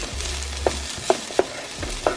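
Chopped onions browning in a pan on a home stove, giving a faint steady sizzle with a few soft stirring clinks and scrapes spaced irregularly, no voices.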